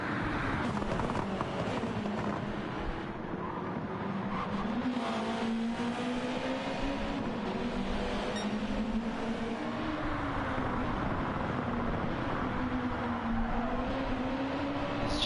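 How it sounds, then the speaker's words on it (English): GR2 race cars circling the Grand Valley Highway 1 circuit in a South African GTWC round: a sustained engine drone that climbs and dips as gears change, with faint tire squeal and passing cars, steady and moderately distant. "GR2 cars are so fast"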